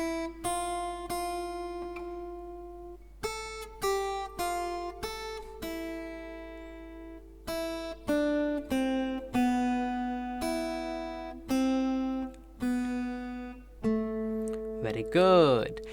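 Slow, clean fingerpicked acoustic guitar plays the Bella Ciao melody line note by note, each pluck ringing out clearly and alone at a gentle, moderate level.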